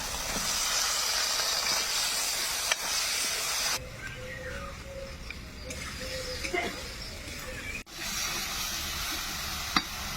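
Chopped tomatoes hit hot spiced oil for a koi fish curry, giving a steady, close, broadband sizzle and hiss with occasional stirring scrapes that briefly drop in intensity midway, then return fully.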